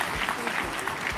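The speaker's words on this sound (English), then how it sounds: "Keep the applause going when she comes up." An audience at the NABJ opening ceremony applauds, with dense continuous clapping from a large crowd that stays at an even level throughout.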